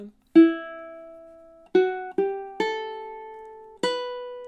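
Ukulele picks a slow syncopated melody phrase from measure 21 of a picking exercise: five plucked notes at uneven intervals, each ringing clearly and fading, close and with no accompaniment.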